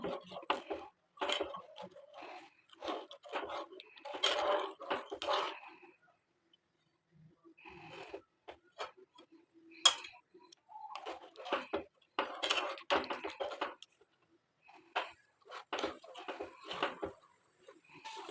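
Milk and sugar being stirred in a pot with a spoon, giving intermittent scraping and clinking strokes in uneven bursts with short pauses, fairly quiet and close.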